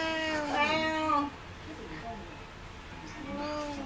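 A house cat meowing nearby: a loud, drawn-out meow, then a short pause and a second, softer meow near the end.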